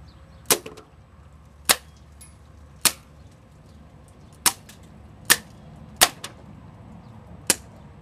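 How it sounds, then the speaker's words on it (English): Seven sharp, snappy shots from a Crosman C11 air pistol in a power test, spaced irregularly about a second apart, each a crisp close crack over quiet background. "I am going to shoot it with the C11."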